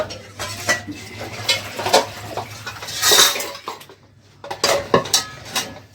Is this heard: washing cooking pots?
yes